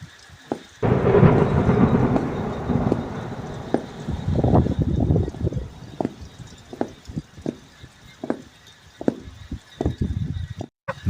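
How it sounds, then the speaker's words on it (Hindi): Heavy rain hisses steadily while rolling thunder rumbles loudly early on, followed by scattered sharp cracks and drips. "बारिश बहुत तेज हो चुकी थी। बादल बहुत जोरों से गरज रहे थे।"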